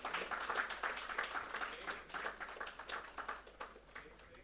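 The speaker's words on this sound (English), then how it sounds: "a huge round of applause for Ms. Eva" A large audience claps together at a chemicals and petrochemicals conference in Gujarat as a panelist is welcomed on stage, a dense steady ovation that fades a little near the end.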